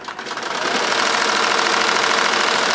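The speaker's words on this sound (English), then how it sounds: "We're on a single head machine. It's a 15 needle, 15 color" A single-head, 15-needle SWF embroidery machine runs at speed, a loud, rapid, steady mechanical clatter with a buzzing hum, close up, ramping briefly at the start and then holding constant.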